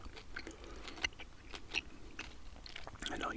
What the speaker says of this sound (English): Okay, so I'm going to chew